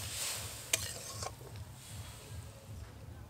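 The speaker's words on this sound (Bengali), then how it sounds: "মশলাটাকে খুব ভালো করে কষিয়ে নিয়েছি খুব ভালোভাবে তেল ছেড়ে গেছে" Spiced masala for a raw prawn curry sizzles steadily in oil in a pan, a continuous soft frying hiss with a sharp scrape of the spoon near the start and a couple of fainter stirring knocks.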